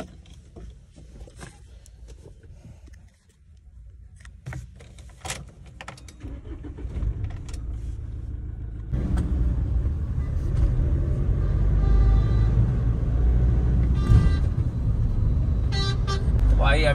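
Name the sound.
Mahindra Scorpio diesel car driving on test drive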